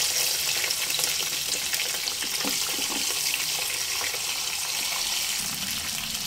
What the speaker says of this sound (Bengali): মিডিয়াম ফ্লেমে মাছের মাথাগুলো ভেজে নেব।